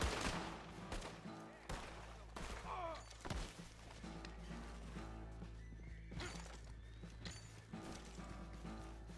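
Scattered gunshots in the video game Red Dead Redemption 2, sharp cracks spaced a second or two apart over a steady ambient bed. A horse whinnies amid them, and there is faint talk underneath.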